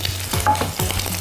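Eggs with butter and a spoonful of milk sizzle loudly in a frying pan while being stirred for scrambled eggs, steady close frying crackle broken by quick scraping strokes of the utensil.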